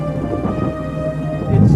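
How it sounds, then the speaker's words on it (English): Hurricane Fran's storm outdoors: a loud, steady roar of heavy rain and wind with no letup, deepening into a stronger rumbling surge near the end. "you just hear the wind roaring, you can feel it. Sheets of rain so white you can barely see through them"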